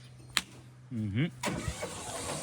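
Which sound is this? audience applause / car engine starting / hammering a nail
car engine starting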